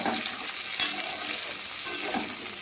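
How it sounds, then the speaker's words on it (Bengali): Dense, even sizzling of potatoes and pointed gourd frying in hot oil fills the clip, with a brief scrape of stirring partway through. "এখন হচ্ছে গিয়ে আলু পটল ভাজা"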